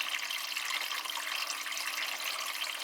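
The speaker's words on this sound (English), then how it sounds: "It's taking on more water before it's doing a rinse" Water pours steadily into a Dyson Contrarotator CR01 washing machine drum before a rinse on an 85-degree cottons wash, a faint, even hiss of filling with a low hum underneath.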